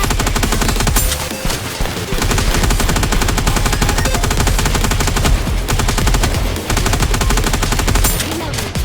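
Rapid machine-gun fire rattles loudly and almost without pause in Goddess of Victory: Nikke, dense bursts broken by a couple of brief gaps, with sound effects layered in.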